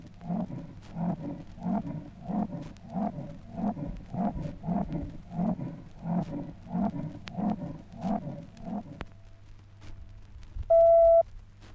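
A big cat gives a long series of rhythmic, rasping grunts at a steady pace, then falls silent; a brief electronic beep follows.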